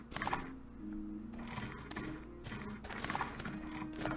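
Horse hooves clip-clop steadily on a winding, tree-lined trail in a cowboy life simulator game, with a continuous rhythmic thudding that carries through the clip alongside faint background game ambience.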